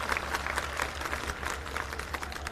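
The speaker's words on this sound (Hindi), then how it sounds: "एक बार जोरदार तालियां बजा दो अपने किसान भाइयों के लिए।" Crowd applause at a rally honouring farmers, a steady dense patter of many hands clapping with a low hum underneath throughout, moderately loud and fairly distant.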